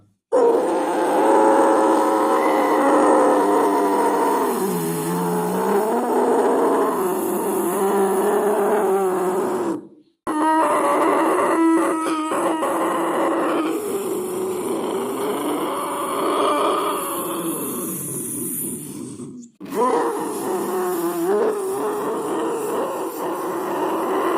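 A single voice mimics a ghostly scene, blending a moaning storm wind with wailing, howling dogs in long, continuous sliding cries that rise and fall, broken by two brief pauses, loud and close.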